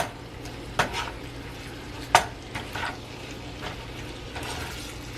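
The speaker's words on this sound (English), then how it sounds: "we're just gonna go ahead and mix it all up on here so that all the pieces can get coated" Turkey sausage pieces are stirred in an oiled pan, with a few sharp utensil scrapes and clinks against the pan over a soft background hiss.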